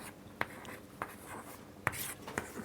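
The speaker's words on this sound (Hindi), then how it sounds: "तो ये मैं लिख देती हूँ" Notes being written by hand with a pen on paper: quiet scratchy strokes and a few sharp taps at the page, close and soft, with no talk.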